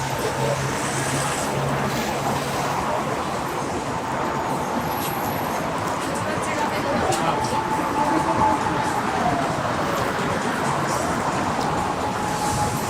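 A train bound for Nikko rumbles steadily past at a station in Asakusa, Tokyo, with continuous wheel and track noise and a faint high squeal for a moment, fairly loud throughout.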